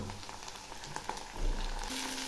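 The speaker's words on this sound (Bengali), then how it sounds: "এই টমেটোগুলো খুব ভালো করে ভেজে নেব।" Tomato pieces fry in a pan with very little oil for an Odia-style katla fish curry, a soft, close sizzle with faint stirring taps, swelling slightly near the end.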